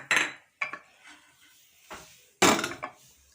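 A pressure cooker holding dal is set down on a gas stove with a few sharp metallic clanks and knocks, separated by short quiet gaps, close by and without speech.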